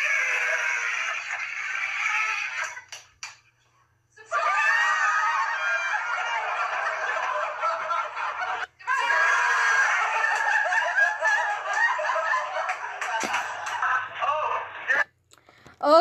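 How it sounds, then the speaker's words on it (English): A woman screaming loudly, long harsh shrill cries held for several seconds each with short breaks between them, close and intense, with some talk near the end. "She's screaming kind of loud."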